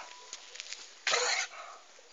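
A lamb gives a single short, husky cough, close and fairly loud, against quiet background hiss.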